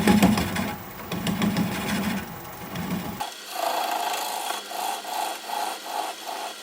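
Wood lathe turning a driftwood bowl at reduced speed, a steady rasping, rubbing cut with low rumble in the first half, then a lighter scraping with a regular pulsing rhythm, close and fairly loud without talk.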